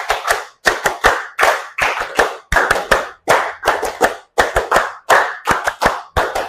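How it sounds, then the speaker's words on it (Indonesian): A group claps in unison in a concentration clapping game, sharp bursts of claps repeated in a steady rhythm, loud and close, with brief silences between the groups. "Tepuk 5 kali."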